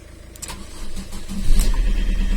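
A Fiat Panda 1.3L Multijet diesel that has sat for two years cranks over with a rhythmic starter churn, growing louder and heavier partway through, but the engine never catches.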